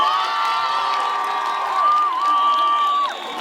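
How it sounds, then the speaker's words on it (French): A crowd cheers and applauds for a schoolteacher retiring this year, with a sustained high shout or whoop running over the continuous noise of the crowd throughout. "Un tonnerre d'applaudissements pour monsieur le maître,"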